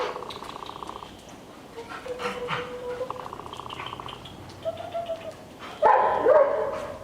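A dog barks a few times during an obedience training session with its handler, the barks short and fairly close over a busy background, with one louder burst near the end.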